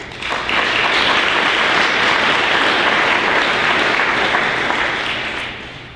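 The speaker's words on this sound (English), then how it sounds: "A round of applause to you." An audience at a National Honor Society induction ceremony claps, and the applause swells quickly into a dense, sustained wash of clapping that tapers off near the end.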